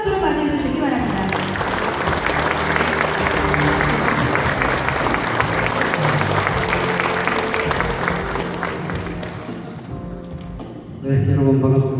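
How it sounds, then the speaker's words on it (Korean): Sustained audience applause fills a formal ceremony hall as a vice minister is welcomed to the podium; dense, steady clapping lasts most of the clip, then fades near the end as a voice begins speaking. "큰 박수로 맞이해 주시기 바랍니다."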